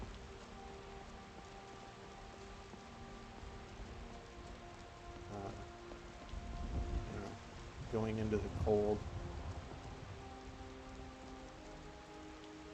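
Steady rainfall patters on the ground in the Skyrim role-playing game, a constant hiss under soft sustained background music, while a voice speaks briefly over it partway through.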